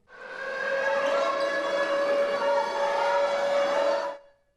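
A loud, steady wailing evacuation drill siren at a school holds a constant tone for several seconds, then fades out at the end.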